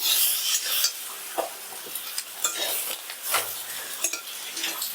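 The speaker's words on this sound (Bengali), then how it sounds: "হলুদ গুঁড়ো আর লঙ্কার গুঁড়ো আমি খুব ভালো করে মাখিয়ে নিচ্ছি বেগুন আলুর সাথে" Eggplant and potato pieces stirred in a pan with turmeric and Kashmiri chili powder for a hilsa-and-eggplant curry, close spatula scrapes and rubs over a bright frying sizzle, in uneven strokes.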